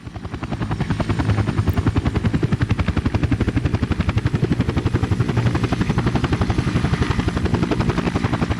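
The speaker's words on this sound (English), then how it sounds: "The helicopter is here." Helicopter in the video game Workers & Resources: Soviet Republic, a steady loud rotor chop with fast even blade thuds and engine whine, continuous throughout with no talk.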